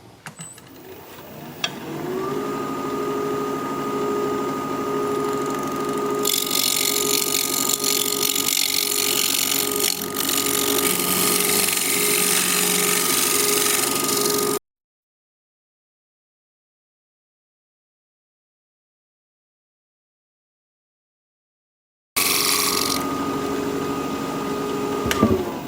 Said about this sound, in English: I should probably scrape as far as I've gone here.